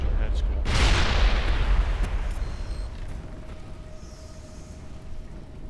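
A rocket launcher fires in the Mass Effect game: a sharp loud blast followed by a long rumbling boom that slowly decays into a fading tail, with faint game ambience underneath.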